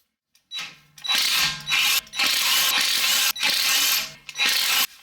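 A ratchet wrench loosens the inner tie rod lock nut on a 2015 Nissan Quest, giving several close bursts of rapid metallic clicking separated by brief pauses.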